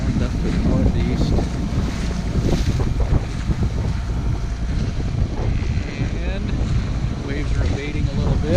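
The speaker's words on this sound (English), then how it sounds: "Waves are abating a little bit, as you would expect as we cross the bay, since the winds are out of the northeast" A sailboat crossing Green Bay on Lake Michigan in a northeast wind, with constant loud wind buffeting the microphone and waves washing against the hull, while someone talks over the rushing noise.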